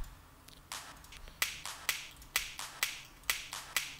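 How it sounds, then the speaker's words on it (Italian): Sharp clap hits repeat in a quick, steady rhythm, crisp and snappy with short decays, alone and moderately quiet. "Come vedete a meno 21 il clap già si sente."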